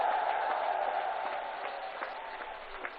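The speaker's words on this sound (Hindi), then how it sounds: "भाइयों बहनों, जोर से तालियां उन वैज्ञानिकों के नाम पर बजाइए।" A large crowd at a rally claps in sustained, even applause that fades gradually, a dense wash of hand claps with no speech over it.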